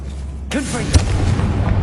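The Confringo spell in Hogwarts Legacy goes off as a loud, close booming blast with a crackling, rumbling tail, heard soon after a sudden onset, while a low drone sits beneath it.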